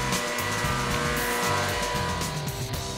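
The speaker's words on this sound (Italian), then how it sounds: "La fresatrice leviga le assi in una certa misura finché possano aderire bene l'una all'altra." A milling machine planes rough yellow cedar staves about four and a half metres long, giving a loud, steady mechanical roar with a droning tonal hum that runs without a break.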